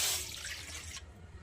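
Water is poured into a bowl while making pea cutlets, a short splashing rush that stops abruptly after about a second, close and fairly quiet.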